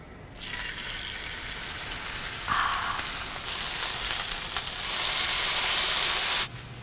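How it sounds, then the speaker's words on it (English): Chicken breast seasoned with salt and pepper sautés in a little olive oil in a skillet, giving a steady broadband sizzle that swells louder near the end before cutting off. "Gonna saute it in a little olive oil."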